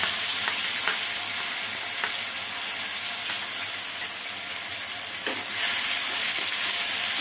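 Green chillies and masala sizzle steadily in hot oil on a home stove, a dense continuous crackle close by with a few stirring clinks and no talk over it.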